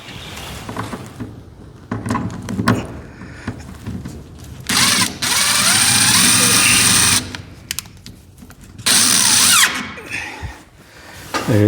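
Power drill driving screws while mounting a high bay LED light in a horse barn: short bursts of whirring motor with pauses between them, close and loud, mixed with handling clatter and some talk.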